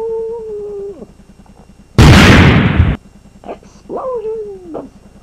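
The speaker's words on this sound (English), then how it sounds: "Explosions!" A single loud, noisy burst like an explosion lasts about a second, set between yowling, meow-like cries.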